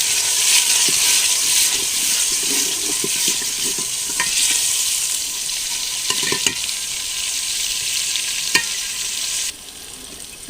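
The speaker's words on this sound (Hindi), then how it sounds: "अब हम इसमें डालेंगे कटे हुए टमाटर।" Chopped tomatoes frying in oil with ginger-garlic paste for chicken saag, a steady bright hiss and sizzle with intermittent spoon scrapes and taps on the pan, close and fairly loud, easing slightly near the end.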